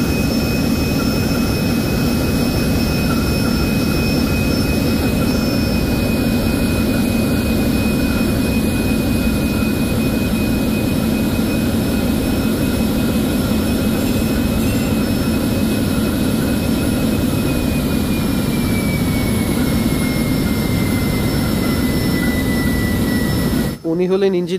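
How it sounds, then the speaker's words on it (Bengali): A Japanese six-cylinder launch engine of about 2000 horsepower runs loud and close in the engine room, a constant heavy drone with a high whine above it for the whole stretch. "আর ইঞ্জিনটি হলো 6 সিলিন্ডার বিশিষ্ট ইঞ্জিন, আর জাপানি ইঞ্জিন, হর্স পাওয়ার প্রায় 2000-এর মতো।"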